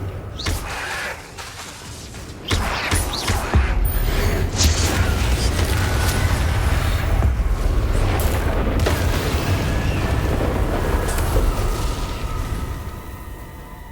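Spell explosions in Hogwarts Legacy boom one after another, loud and close, over a continuous roaring, rumbling wash of combat noise.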